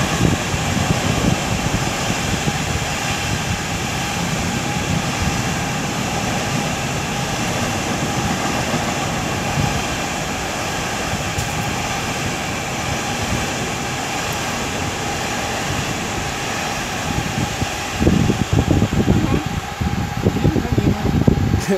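Class 66 diesel freight locomotive 66433 passing at Bromsgrove on the Lickey Line, a steady heavy engine drone and wheel rumble that holds for over twenty seconds and swells slightly louder near the end, with possible faint talk beneath.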